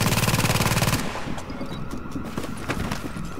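Rapid automatic gunfire from enemy soldiers in a video game, a loud dense burst for about a second, then scattered fainter shots and combat noise continuing in the background.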